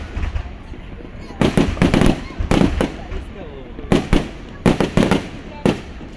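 Fourth of July fireworks over the Merrimack River burst in a loud, irregular series of sharp booms and crackles, several in quick clusters, with people talking in the background between blasts.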